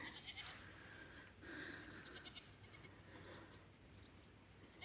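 Goats bleating faintly in the distance, a few drawn-out calls over an outdoor hiss.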